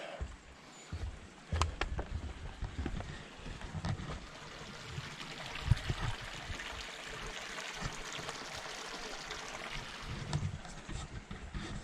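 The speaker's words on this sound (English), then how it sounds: "So there is water running through it." Water from a small stream runs through a forest, a soft continuous trickle and gurgle with occasional brief knocks and rustles nearby.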